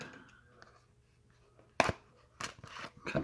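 Scissors cutting during the unboxing of a subscription crate, a few sharp, close snips separated by quiet pauses, with faint background noise.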